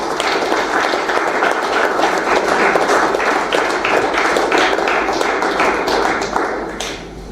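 Audience at a student and parent orientation breaks into sustained, dense clapping, loud and continuous for about seven seconds before tapering off at the end, with no talk over it.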